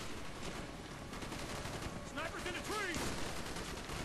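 Rapid gunfire on a boat level of Call of Duty Black Ops, with sustained bursts of shots under a constant din of battle and a voice speaking briefly over it.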